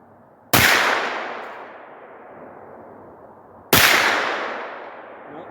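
Two rifle shots from a 9mm AR carbine at an outdoor range, spaced about three seconds apart, each a sharp loud crack followed by a long ringing decay as the round strikes a steel target 200 yards downrange.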